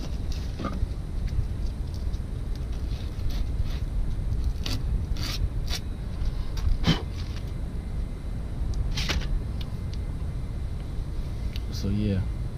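Heavy-grit sandpaper rubbing over curb rash on a black wheel rim, a steady close scratchy rasp running throughout with a few sharper scrapes mixed in.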